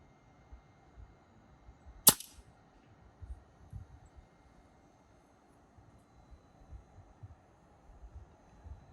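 Single sharp crack of an Edgun Leshiy 2 air rifle fitted with a DonnyFL shroud, one brief loud shot followed by quiet low background rumble.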